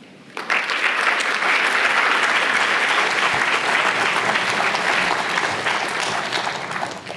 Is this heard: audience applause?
yes